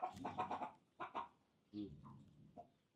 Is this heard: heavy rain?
no